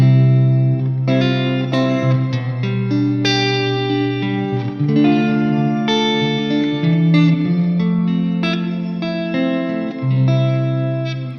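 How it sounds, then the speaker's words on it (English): An electric guitar plays sustained chords and single notes through a shimmer reverb set to a low shimmer amount and a higher mix, with a lush, washy tail that stays loud and continuous. "add more reverb because the ratio of shimmer is way down compared to what we had before"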